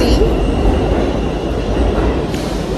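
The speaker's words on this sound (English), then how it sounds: "I am taking the train" Steady rumble of a subway train heading to Brooklyn, with continuous low rolling noise and faint rail clatter throughout, loud and close from inside the car, with no voices.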